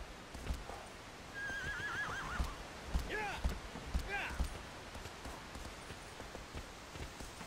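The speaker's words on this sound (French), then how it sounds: "Oh le cheval là." A horse in the video game Shadow of the Colossus, with hoof clip-clops and a clear whinny mid-clip, over a soft rain-like ambience while a person talks quietly.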